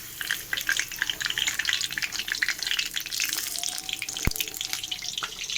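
Pieces of paneer fry in hot oil, a busy crackling sizzle throughout with scraping stirs, a splash of running water and a single sharp clink near the end, heard close without voices.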